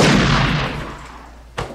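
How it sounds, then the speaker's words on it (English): A loud gunshot sound effect in a film, one booming blast decaying over a second, followed by a sharper, shorter second report near the end. "Gunshot! I've been gunshot!"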